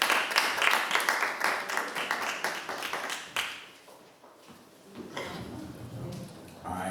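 A youth event audience claps to welcome the next presenter, dense clapping for about four seconds that fades out, then a second smaller burst of clapping with some voices mixed in.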